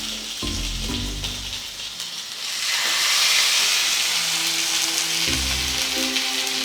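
Salmon fillets hitting a hot pan and sizzling, a bright, loud hiss that swells and holds steadily after a few low clunks of handling at the start and returns under brief knocks.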